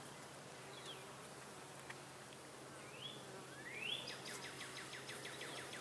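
Honey bees in an opened hive during a beginner's second-week inspection hum faintly and continuously, with a few brief bird chirps high above the quiet drone.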